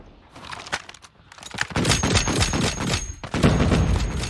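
Gunfire rattles through a Call of Duty Mobile match in dense, overlapping bursts, light at first and then building into sustained loud volleys with no talk over it.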